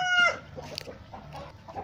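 English-breed hens cluck and murmur nearby, with a short higher squawk at the start, no voices present.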